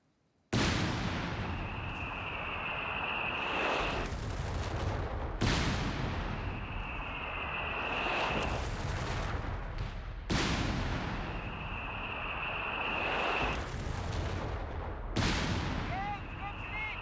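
Artillery barrage in Company of Heroes 3 firing on a machine gun position: loud booming salvos in several bursts, each trailed by rumbling explosions and a sustained whistling tone, with continuous battle noise between them.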